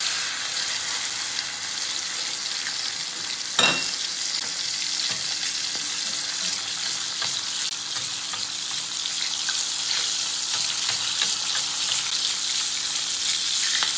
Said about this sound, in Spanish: Y estos los llevo yo a mi cazuela a cocinar.